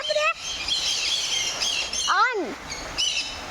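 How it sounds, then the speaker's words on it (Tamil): Birds at the Ooty bird park in India chirp and squawk while eating feed, with sharp repeated calls and a loud descending squawk over a busy, noisy background. "ஒரு 5 நிமிஷத்தில் அந்த பறவைங்க எல்லா தீனியும் காலி பண்ணிட்டு பறந்து போயிடுச்சு"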